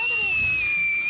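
Firework rockets launched at a concrete pour in Mexico whistle upward with a steady high-pitched shriek, fairly loud and close, over faint background noise.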